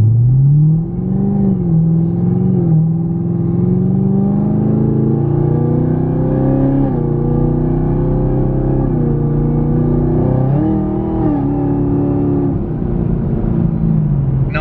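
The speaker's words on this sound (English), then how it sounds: "Loving this exhaust" A Chevrolet Camaro ZL1 with a Corsa Extreme exhaust and black tips revs loudly, its deep engine note rising and falling in repeated surges across a steady, close rumble.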